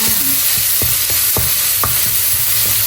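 Thai curry paste frying in a little oil in a pan for a northern-style banana stem and pork belly curry, a loud, dense, close sizzle with a series of short spatula taps and scrapes.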